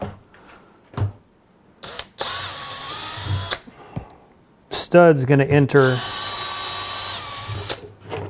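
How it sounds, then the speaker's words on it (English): A power drill whirs in two sustained bursts, drilling holes in a Jeep Wrangler JK, close and loud, with someone talking briefly between them and a ratcheting rattle as it bites. "So re-drilling that."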